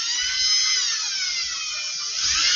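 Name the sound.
power drill drilling holes in a Bruder crane truck toy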